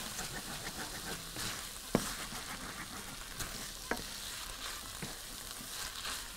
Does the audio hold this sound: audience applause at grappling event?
no